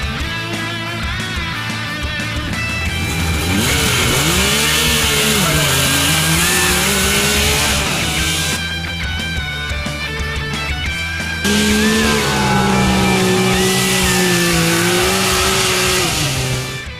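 A Yamaha YXZ 1000 R side-by-side engine revs hard and loud on the Glamis sand dunes, rising and falling in pitch with repeated accelerations and gear changes and a brief dip between pulls, with no talking.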